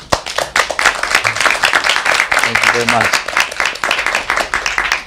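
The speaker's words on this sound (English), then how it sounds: "Again, a round of applause." Audience applause closing a mental health awareness panel, crisp rhythmic clapping from a small crowd, with a voice speaking briefly over it.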